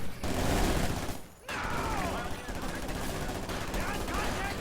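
Rapid PPSh submachine gun bursts in a competitive video game match during a close-range fight, loud dense automatic fire that drops out briefly, then continues under game ambience with a voice commentating.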